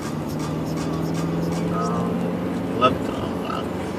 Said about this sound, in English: You gotta love the sound of the motor